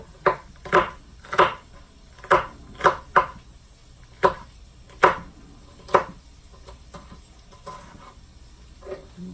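A knife cuts yellow sweet peppers into long slices on a board, sharp irregular chops about a dozen strikes, close and distinct with quiet gaps between.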